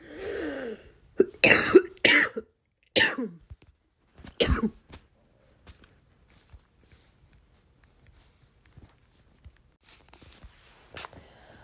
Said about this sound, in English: So you're probably going to hear me cough.